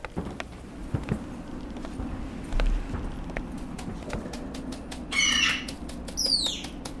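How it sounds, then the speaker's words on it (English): Inside a library, a pigeon flaps its wings in several quick flurries, ending in a few bright whistling chirps over a low hum in the room. "Is that a pigeon in the library?"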